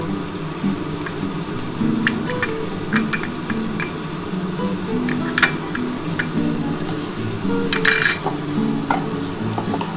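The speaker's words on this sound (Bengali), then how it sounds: "এবার এই কড়ার মধ্যে আমি বাটার দিয়ে দেবো একটু বেশি করেই বাটারটা দিচ্ছি" Butter sizzles and spits in a hot kadai for chicken tandoori. A steady crackling fry runs under occasional scrapes and clinks of a spoon against the metal pan, close and continuous.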